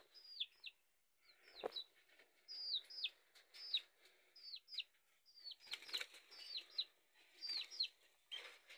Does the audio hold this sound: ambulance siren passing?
no